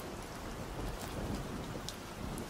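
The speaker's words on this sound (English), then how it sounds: "Once if the rain comes down, you already know." Rain pours steadily in a music video scene, a soft continuous hiss with scattered drop patters, fairly faint and without any voices.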